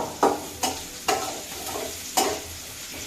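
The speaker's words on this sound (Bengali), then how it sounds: "এবারে ভাজতে হবে।" Egg frying in hot oil in a pan for a spiced egg curry, a soft steady sizzle broken by several sharp scraping stirs of a spatula at uneven intervals, close and moderately loud.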